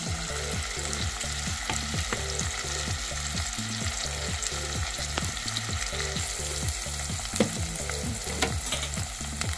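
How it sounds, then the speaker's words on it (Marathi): Hot tempering oil for a cauliflower and potato curry sizzles steadily in a pan, broken by a regular rhythm of stirring strokes. It sounds close and continuous, with no talking. "मैत्रिणींनो फोडणी गरम होईपर्यंत इथे मी तुम्हाला दाखवते"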